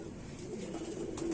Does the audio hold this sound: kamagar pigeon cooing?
yes